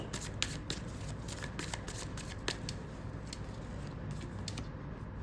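Tarot cards are shuffled by hand in a steady series of crisp riffling flicks and soft slaps, close and clear over a faint background hum, with no talk.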